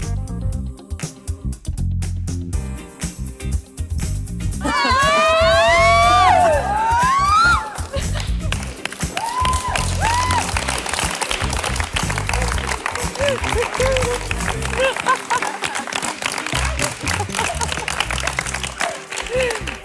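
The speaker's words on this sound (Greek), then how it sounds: "Σήμερα χειροκροτάτε εσείς." A studio audience at the Greek Next Top Model show claps and cheers, with whoops and shrill shouts rising over sustained applause and voices mixed in the crowd noise.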